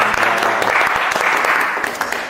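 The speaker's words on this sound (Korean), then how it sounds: "우리의 기도를 들으신 주님께 영광의 박수를 올려드리겠습니다." Congregation applauding after a closing prayer at a church service, a dense steady clapping that holds loud throughout with no voices over it.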